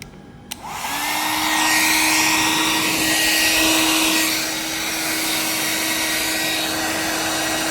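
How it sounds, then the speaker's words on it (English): A hair dryer switches on with a click and roars steadily at close range, its loud whooshing airflow and motor whine continuing without a break. "We have this hairdryer here, which will simulate"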